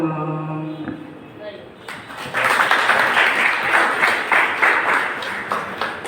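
A college poetry recitation event: after a sung invocation fades out, the audience breaks into loud, sustained applause with many hands clapping together for several seconds.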